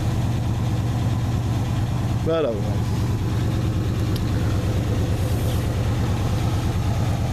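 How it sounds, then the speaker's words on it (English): A worn-out old car engine idles after a cold start with a steady, low, throbbing rumble. Someone talks briefly over it. "The engine's pretty worn out,"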